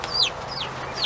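Chickens clucking in a dirt-floored coop with dry leaf litter on the ground, three short bright calls spaced across a second, close and moderately loud over a low background hum.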